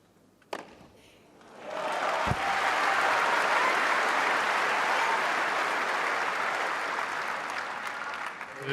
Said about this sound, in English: Just nice clapping.